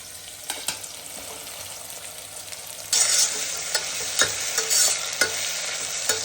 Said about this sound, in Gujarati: ટામેટું થોડું સોફ્ટ થાય એટલે સમારેલા કંકોડા એડ કરી લેવાના છે